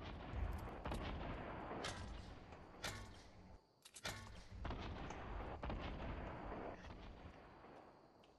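Repeated gunshots crack out across a video game firefight, several loud broadband bursts spread irregularly over the stretch, with a dense roar of battle noise filling the gaps and a brief lull midway.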